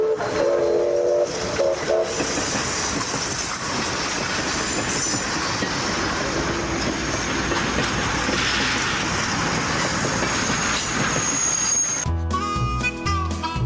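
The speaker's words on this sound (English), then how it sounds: "Here we see a northbound train passing through Mora in" A northbound train rolls through Mora, its loud continuous rumble and wheel noise filling the whole stretch, with a whistle or horn tone sounding over the passing cars.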